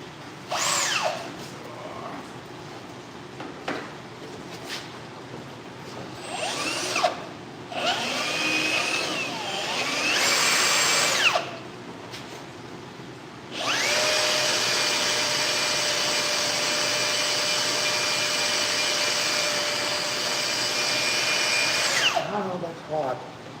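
Bursts of a battery-powered drill whine while a dual-disk clutch job is finished in a shop: several short pulls, then one long sustained run of about nine seconds, moderately near, with people talking in between.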